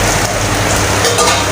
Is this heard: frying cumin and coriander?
yes